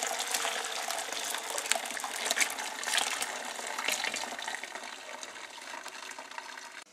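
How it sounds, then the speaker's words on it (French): Chicken broth for a chicken and bamboo shoot soup pours through a strainer, a steady close splashing and trickling of liquid running on without pause. "Donc on filtre à travers une passoire."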